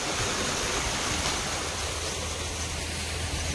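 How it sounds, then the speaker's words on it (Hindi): Water pours steadily into an old well, a continuous loud rushing wash with no breaks, heard close by and without talk. "और इस कुआं में पानी आ रहा है आप देख रहे हैं"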